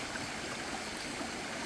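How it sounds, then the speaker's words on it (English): Water flowing steadily through bushes and trees, a continuous close rushing, gurgling hiss with no talk. "it's just this water flowing."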